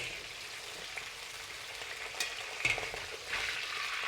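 French beans fry in hot oil in a wok, a steady dense sizzle and crackle with a few sharper pops and a swell of bubbling near the end, close and without talk.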